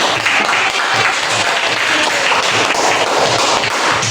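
Applause from a class audience during a teacher-training lesson, a steady dense wash of clapping that fills the whole stretch at full loudness with no speech over it.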